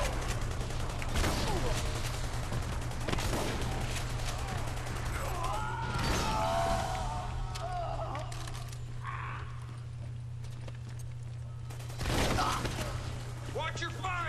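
Gunfire in the Army of Two: The Devil's Cartel video game, with bursts of shots around a steady low hum, loudest near the start, the middle and the end, mixed with game effects and talk.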